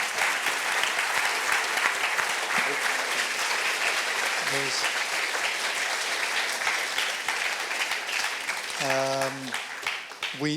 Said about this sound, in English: I would like to invite the audience to applaud again for these two eminent speakers.